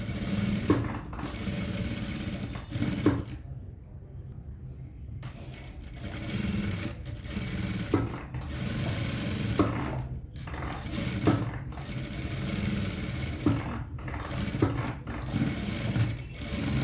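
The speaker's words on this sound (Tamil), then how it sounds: "இதை நம்ம வந்து சுற்றி ஒரு தையல் போட்டுக்கலாம்." Sewing machine running steady stitching passes around the edge of blouse fabric, a close, rapid mechanical chatter broken by short pauses and restarts, no talk.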